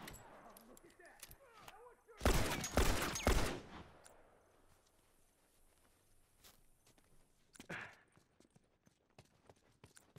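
Rifle gunfire in a high school themed shooter video game: a loud burst of rapid shots, then scattered footsteps and quieter clatter, with a softer crack later on.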